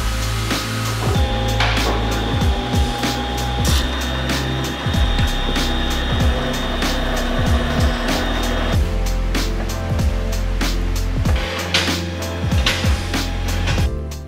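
Small metal lathe or drill press labouring at low speed while tapping a threaded hole in metal parts for a Suzuki Samurai buggy build, with a steady motor drone and repeated rhythmic cutting strokes and squeaks throughout.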